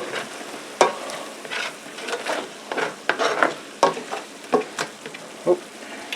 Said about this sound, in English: she's simmering away good now